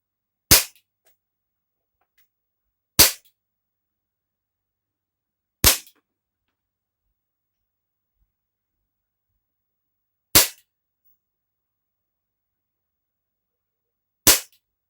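Five sharp shots from a Taurus PT 92 BB gun pistol, spaced a few seconds apart in an otherwise silent setting, each a crisp loud crack that decays quickly.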